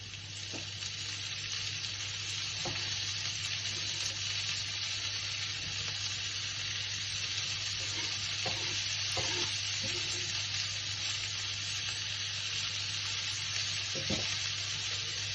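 Cabbage fries in a pan under a constant loud hiss and sizzle, with occasional soft knocks and scrapes from stirring, heard up close with no talk.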